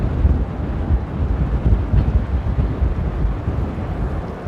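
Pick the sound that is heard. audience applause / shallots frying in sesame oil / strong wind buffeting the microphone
strong wind buffeting the microphone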